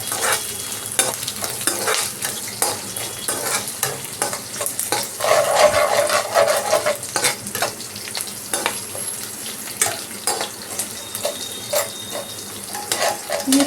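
Sliced onions frying with a teaspoon of sugar in a pan over a low flame, a steady soft sizzle under repeated scraping and stirring strokes of a spatula against the pan, close up and without voices.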